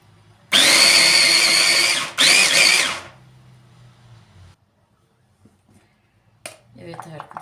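A food processor chops peppers and onion for kebab mix, whirring loudly in two close bursts with a short pause between them, followed by quieter kitchen handling noises.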